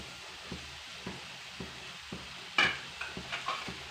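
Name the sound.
mixing grated coconut with jaggery in a pan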